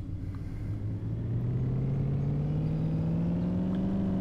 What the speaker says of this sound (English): I just can't believe I'm driving a dang Mustang.